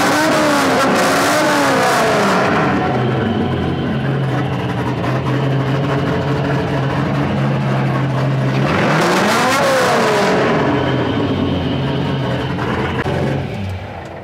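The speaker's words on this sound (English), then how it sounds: "I can give it a little rev now." A Scion FR-S fitted with an LS3 V8 and 8-1 headers revs loudly and close, the engine note climbing and falling through two strong throttle blips over a steady idle.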